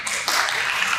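Audience clapping at a Tennessee District 9 candidate forum, a steady wash of many hands that swells briefly partway through, fairly close and continuous for about a second.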